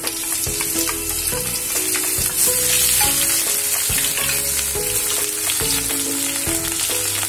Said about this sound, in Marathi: त्यामध्ये मी हा कांदा घालते,